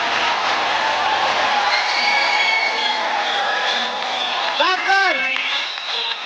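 A studio audience on a TV comedy show cheers and applauds for Saif Ali Khan, with a continuous crowd roar and a rising whoop near the end.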